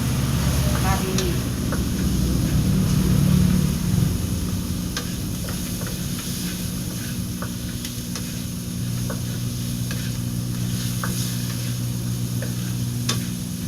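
Meat frying in cooking oil, a steady, close sizzle that runs throughout with faint ticks and stirring scrapes, while a person talks over it.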